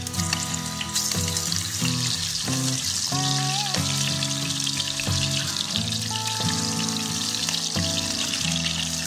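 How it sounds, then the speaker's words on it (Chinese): Pork belly fries in oil in a hot clay pot, a steady crackling sizzle heard close up, while music with distinct tones plays loudly over it and nobody speaks. "砂锅烧热，放入食用油，倒五花肉炒至变色"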